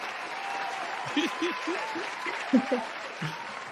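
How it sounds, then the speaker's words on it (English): A studio audience applauds and cheers, a steady wash of clapping and crowd noise with chuckles and scattered voices rising over it, moderately loud and continuous. "Crowd's going wild."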